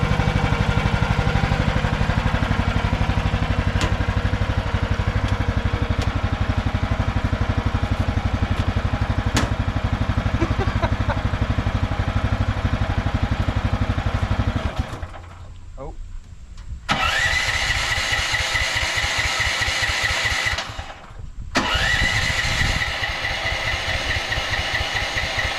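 A Chinese mini excavator's small diesel engine, previously run dry of fuel, cranks and catches into a steady rough idle, loud and close, then cuts out briefly and restarts, with people talking over it.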